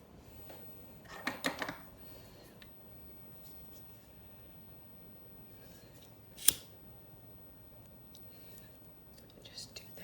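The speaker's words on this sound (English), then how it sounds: "So now I'm going to take this and I cut it." Scissors snip through beading thread while a star pendant is being beaded: a short burst of close, crisp cuts near the start and one sharp single snip later, in an otherwise quiet room.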